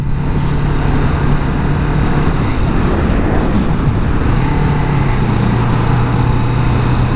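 A 2017 Kawasaki Vulcan S cruiser motorcycle being ridden and accelerating, its engine a steady, close drone under heavy wind and road rush, with the pitch drifting slightly throughout and no talking.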